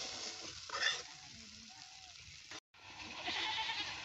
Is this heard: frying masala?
yes